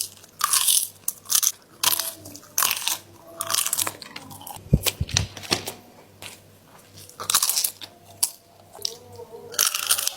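Repeated loud, close crunchy bites into crispy pan-fried shaved sausage, sharp crackling bursts spaced unevenly with chewing in between.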